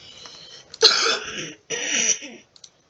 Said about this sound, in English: I've been coughing a lot more